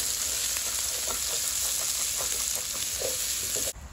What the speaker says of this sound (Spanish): Le voy a agregar 2 cucharadas más de aceite para que se fría muy bonito.